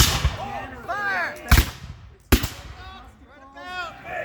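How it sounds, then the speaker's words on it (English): Two sharp, booming reports from muzzle-loading cannon at an 1812 reenactment, fired about a second apart, each a sudden loud blast with a rolling decay, while people talk before and after the shots. "And when you fire, your cannon turns into a..."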